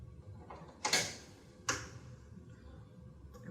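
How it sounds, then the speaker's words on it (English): Scissors snip small slits into fleece scarf fabric, giving two or three faint, crisp cuts spaced about a second apart in a quiet room. "these little slits are just going to be a little cut, just a snip"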